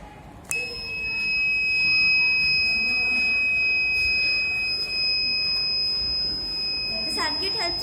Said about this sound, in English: The circuit helps us to detect the rain by giving an alarm alert.